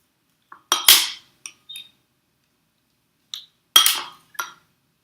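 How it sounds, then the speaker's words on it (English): An egg slicer's metal wires cut through a boiled egg, giving short sharp metallic clinks and clatters in two separate clusters with quiet gaps between. "My little trusty egg slicer makes it much easier."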